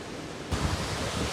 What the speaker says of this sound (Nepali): यति बेला चाहिँ हामी 9 बहिनी झरनामा आइपुगिसकेका छौँ